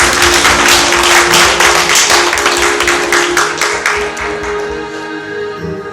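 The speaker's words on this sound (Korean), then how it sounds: "하나님 앞에 감사의 박수하고" Church congregation applauding together at a Thanksgiving Sunday service, dense sustained clapping filling the room close and loud, gradually thinning toward the end.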